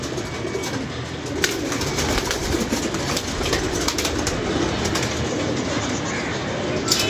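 A pigeon coos repeatedly nearby over a constant, loud rumbling background like a passing train, with no talking.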